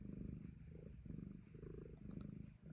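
A house cat purrs steadily and close while it watches birds, including male cardinals, outside. The low rumble pulses in soft, even breaths and runs through the whole stretch without any other sound.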